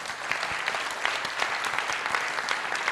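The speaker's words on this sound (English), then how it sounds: "a round of applause for our panelists" A round of applause for the panelists at a December 2022 IEP e-launch event, dense steady clapping from a crowd holding level for about three seconds with no talk over it.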